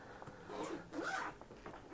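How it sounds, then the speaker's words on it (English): Zipper on the fabric cover of an Evenflo Revolve 360 car seat being unzipped, a few quick rasping pulls of moderate loudness, close up with no talk. "after unzipping this one on both sides"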